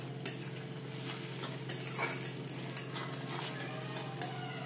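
Potatoes for aloo dum fry in a pan with a soft steady sizzle, while a spatula scrapes and knocks against the metal in a few irregular close strokes, no voices.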